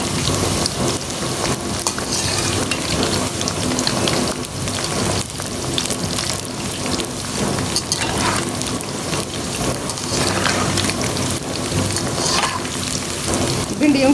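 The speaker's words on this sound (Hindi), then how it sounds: "फिर इसी ऑयल में हम प्याज फ्राई करते हैं" Sliced onions frying in oil in a pan, a dense, continuous loud crackling sizzle that sounds almost like heavy rain, steady throughout with no talking.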